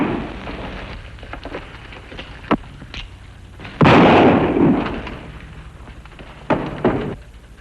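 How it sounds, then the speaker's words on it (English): Gunshots are fired at a weather vane across a street, a few sharp reports and one loud booming blast among scattered pops, fairly close against a quiet background, with no speech. "What's all the shooting?"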